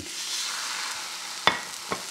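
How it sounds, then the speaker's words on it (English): A burger sizzles in a hot pan on the stove with a steady high hiss, broken by two sharp clicks or pops near the end. "place your burger right in the middle of the pan"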